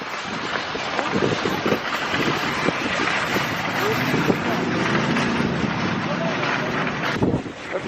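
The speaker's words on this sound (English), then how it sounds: "Oh my god, it's like so windy." Strong outdoor wind buffets a camera microphone that has no wind muffler, a loud, steady rumbling roar that holds for several seconds.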